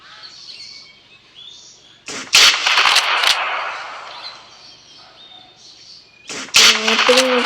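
Gunfire in a night hunting video game, with several loud sharp shot bursts around the middle and again near the end, set among faint ambient night-bird chirps.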